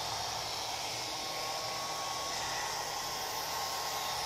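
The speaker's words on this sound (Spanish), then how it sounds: "Una pistola de pelo." A hair dryer blows a steady, even whoosh of air onto a nail fungus treatment on the nails, running continuously and close throughout with no talking.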